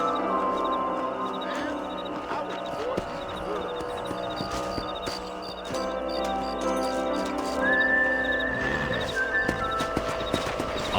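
Horse hooves clip-clop at a steady walk in the Red Dead Redemption video game, with a couple of high whinnies over layered game ambience and faint background voices.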